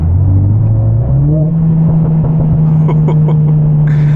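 A Mercedes CLA45s AMG in race mode holds a loud, deep exhaust drone that steps up in pitch as it accelerates. A few quick crackles near the end could be exhaust pops.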